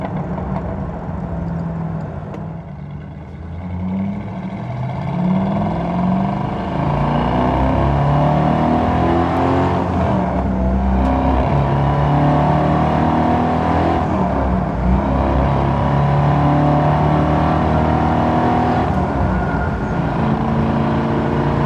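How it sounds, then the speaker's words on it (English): Exhaust note of a 1973 Camaro RS LT on a test drive, a loud, steady engine drone that rises and falls as it accelerates, heard continuously and up close from outside the car. "hopefully the mic outside is helping to pick up the tone of the exhaust, because the sound on this car is killer"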